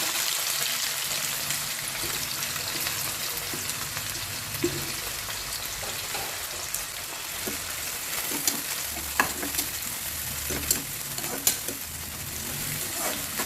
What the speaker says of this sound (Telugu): ఆనియన్స్ చక్కగా ఫ్రై అవ్వాలండి కొంచెం ఆనియన్ ఫ్రై ఇద్దాము